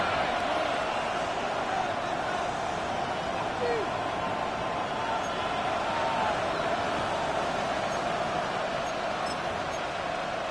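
A roaring stadium crowd in a Broncos versus Rams football video game, a steady dense wash of cheering and noise that stays loud and unbroken throughout, with no clear talk above it.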